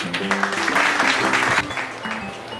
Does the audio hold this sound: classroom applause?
yes